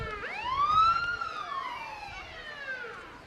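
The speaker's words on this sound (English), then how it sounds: "I hear sirens." A wailing siren sweeps up and down in pitch, fairly close and loud, with faint street noise around it during a parade.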